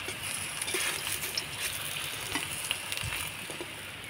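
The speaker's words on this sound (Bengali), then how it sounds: "এবার আমি উল্টে পাল্টে ভেজে নেব" Vegetarian mock fish pieces fry in oil in a wok with a steady, close sizzle. Faint scrapes and ticks of turning sit on top of the hiss throughout the short stretch.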